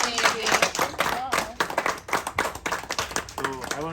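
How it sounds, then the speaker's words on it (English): A small group of diners at a cruise ship's Chef's Table aboard Carnival Vista clap together in a short burst. The clapping is close and uneven, mixed with overlapping chatter and voices throughout. "Let's get our applause."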